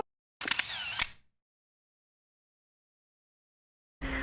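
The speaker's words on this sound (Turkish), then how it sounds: "Ga ik foto van jullie maken" A camera fires a burst of shutter clicks, falls completely silent, then begins another short burst, all near and distinct.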